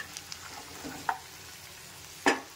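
A spoon stirs a potato fry with grated coconut and spices in a pan, soft scraping and low sizzle with a few sharp clinks, close and alone without talk.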